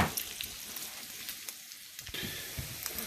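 Bacon fries in a pan, a steady close crackle and sizzle with scattered sharp pops and spatters throughout.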